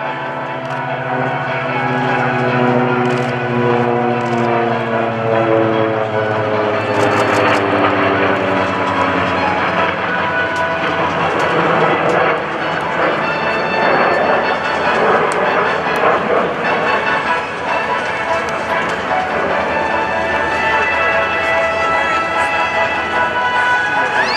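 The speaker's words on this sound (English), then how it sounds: "from the right, here comes the first pass of the Tailhook Legacy flight." US Navy Tailhook Legacy Flight jets make a pass at the 2012 NAS Oceana airshow, a loud rising and falling engine roar with shifting tones sweeping past, steady throughout the pass.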